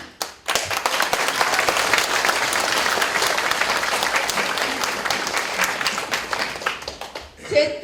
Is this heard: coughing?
no